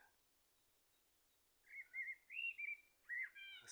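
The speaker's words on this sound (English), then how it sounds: "that's a blackbird singing." A blackbird sings outdoors on a quiet countryside walk, several clear fluting phrases in the second half, fairly near and alone against a near-silent background.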